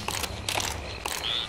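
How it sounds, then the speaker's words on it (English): A gun reloads in Left 4 Dead 2 in the Swamp Fever swamp level, heard as a quick run of mechanical clicks and ratcheting clacks, about three distinct metallic snaps over a second and a half, close and crisp. "Reloading!"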